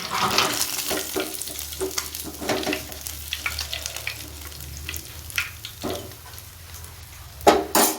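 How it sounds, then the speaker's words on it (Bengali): Vegetables crackle and sizzle steadily in oil left from frying fish in a pan while a spoon stirs and scrapes now and then, the frying continuing throughout at moderate volume. "এই তেলটুকুতে আমি এই সবজিগুলোকে ভেজে নেব"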